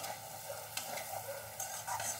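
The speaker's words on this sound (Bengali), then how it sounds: "দিয়ে একটু ভালো করে নেড়ে চেড়ে নিচ্ছি" Fried pumpkin being stirred in a pan with faint sizzling underneath, scraping strokes coming in a few uneven pushes at a quiet level, with no talking.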